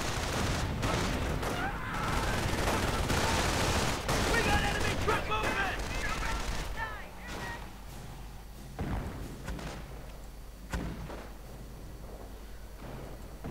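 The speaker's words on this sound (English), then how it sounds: "Mortar bombardments everywhere." Dense gunfire and thudding mortar bombardment from a war video game pound almost continuously, loud and busy at first, then thinning into scattered booms and shots, with a voice faintly present underneath.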